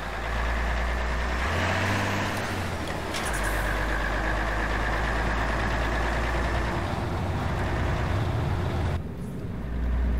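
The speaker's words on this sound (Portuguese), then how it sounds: "aquela acelerada que o caminhão tá dando ali é porque ele tá derrapando" Heavy truck engine in Euro Truck Simulator 2 revving and surging as the truck skids, a loud continuous low rumble with shifting pitch, occasional whooshing wind or weather noise on top, no talking.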